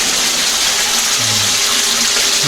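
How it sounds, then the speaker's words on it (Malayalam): Spring water gushes from the rock inside a cave at Madakkulam, Kannur. It makes a loud, steady, close-up rushing splash that carries on without a break for the whole stretch, with no talking. "അവിടെ നിന്ന് വെള്ളം വീഴുന്നു"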